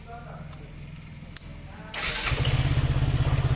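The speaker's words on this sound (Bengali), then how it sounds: "এখন আপনি যদি বাইকটা স্টার্ট করেন" A Suzuki Gixxer FI ABS motorcycle engine starts after a quiet stretch and settles straight into a steady, rhythmically pulsing idle, close and fairly loud.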